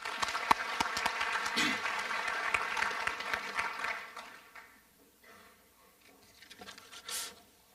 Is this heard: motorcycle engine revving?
no